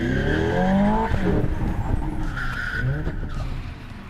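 A synthetic engine sound from a 2025 Hyundai IONIQ 5 N electric car rises and falls like revving through gears, loud and close, with tire-squeal-like tonal sweeps.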